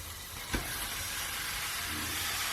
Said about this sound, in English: We're going to brown this meat nicely in all these beautiful spices.